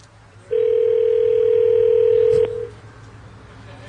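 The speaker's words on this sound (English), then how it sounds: "we're going to try to call Frosty and see what he's up to" A steady, loud single-pitched telephone tone on a call, held for about two seconds and then cut off, with faint background hum.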